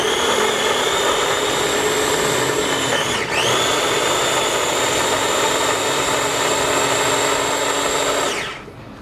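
A food processor chops green bell pepper and onion in a continuous loud whirring roar close by, with a brief dip in pitch partway through before the motor winds down at the end.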